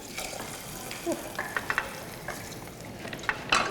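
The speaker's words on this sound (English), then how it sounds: "you want to make sure that your oil is hot when you add it to the boiling dal" Hot oil tadka hits boiling dal in a kitchen, giving a low sizzling hiss and frying crackle, with stirring scrapes and a few small clinks, fairly quiet and without talk.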